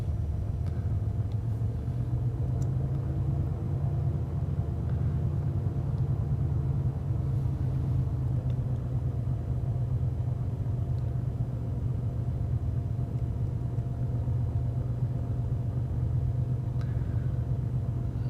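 Cessna 210 engine in the X-Plane flight simulator during the takeoff roll, a steady loud low drone that holds evenly throughout with no talk over it.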